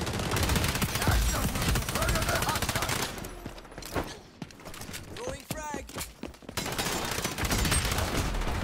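Automatic weapon fire rattles loudly in XDefiant, played on Linux, with dense continuous bursts that pause briefly mid-way while a voice talks, then resume at full intensity.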